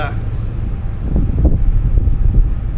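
Wind buffets the microphone over a deep, constant engine drone on the open outside deck of a moving Koh Samui ferry.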